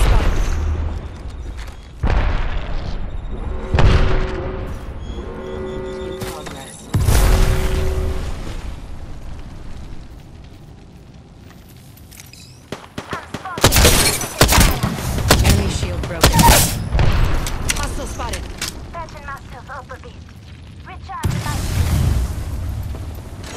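Grenade blasts and bursts of gunfire in Apex Legends-style shooter gameplay, several loud booms and crackling volleys spread across the stretch with quieter gaps, while voices talk over the action.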